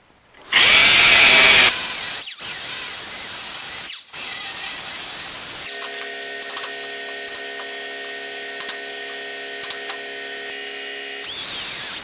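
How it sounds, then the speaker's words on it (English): Cutoff wheel grinding through spot welds between the cowl and dash panel of a 1966 Mustang convertible, loud bursts of broadband grinding, then a steady whining tonal hum with brief ticks, another grind at the end. "take my cutoff wheel and weaken the rest of the weld"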